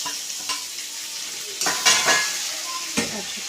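Mutton dropped into a pan of fried spice paste and stirred, a close sizzle swelling with a few scraping strokes and a sharp clatter near the end.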